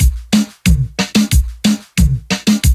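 A punchy drum loop at 90 BPM gives about eleven hard, close hits in under three seconds. Deep kicks alternate with snappy snare-like strikes in a steady hip-hop groove, and no one speaks.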